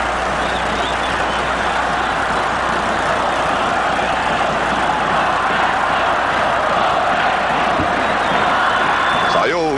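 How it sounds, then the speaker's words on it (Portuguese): A 1981 Brazilian championship match between Vasco da Gama and Internacional, with Vasco fans roaring in the stands, a dense, steady stadium crowd noise that continues loudly throughout. "E é uma festa da torcida do Vasco."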